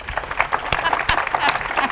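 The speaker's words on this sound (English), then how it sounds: "Round of applause." Audience applause for award winners at an innovation awards ceremony, a moderate patter of clapping with a few sharper individual claps standing out and some voices mixed in.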